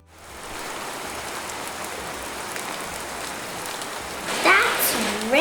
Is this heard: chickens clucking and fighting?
no